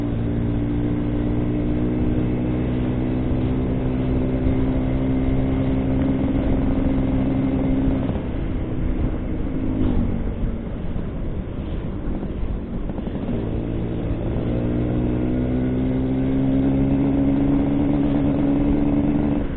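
A 1989 Suzuki A100 motorcycle with drum brakes, ridden at moderate speed, its small engine droning steadily with a harmonic hum that dips and rises again as the throttle eases off and picks back up.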